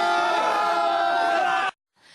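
Tourists cheer and yell at a winter trout-catching festival as a participant lifts a big trout from an outdoor pool, a loud crowd roar that cuts off abruptly near the end.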